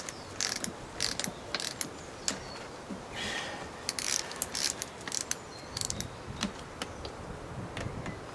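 A ratchet tightens bolts during reassembly of a Kawasaki KDX200SR motorcycle engine. Quiet bursts of fast clicking repeat at close range, broken by short pauses and light metallic ticks.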